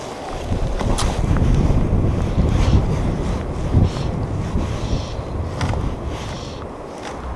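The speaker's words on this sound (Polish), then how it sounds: "zaczyna trochę wiatr od nowa" Wind gusts along the Dunajec river during spring trout fly fishing, a broad steady rush that buffets the microphone with low rumbling swells and no voices.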